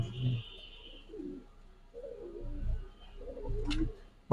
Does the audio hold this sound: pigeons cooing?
yes